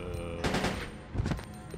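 Pistol shots in Resident Evil: Code Veronica, with two or three sharp bursts spaced about a second apart over a low, droning background, close and moderately loud.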